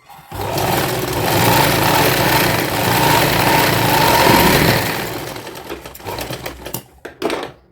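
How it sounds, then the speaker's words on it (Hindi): Sewing machine stitching a coat-collar cord-set garment, running in a steady continuous whir for about five seconds, then breaking into short stop-start bursts as the fabric is adjusted. "ऊपर से प्रेस सिलाई भी लगा देंगे इस पे।"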